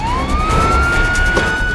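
Police car siren wailing in a steady rising-and-holding tone, loud and close, over a busy background with no speech.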